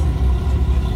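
A restored Porsche 928 S4 at a historic hill climb gives a low, steady engine rumble, close and continuous for a brief moment with no talk over it.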